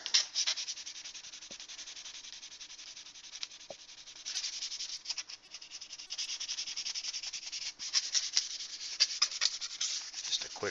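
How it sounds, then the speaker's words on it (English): Fine 600-grit sandpaper scuffs primer on a scale model, giving a steady close-up rasping and rubbing with short strokes that build in intensity. "I'm going to go over this with some 600 sandpaper first"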